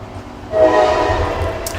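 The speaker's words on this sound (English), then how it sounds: "sorry if you hear the train" A train passing by, sounding a loud sustained horn that starts partway in over low rolling rumble.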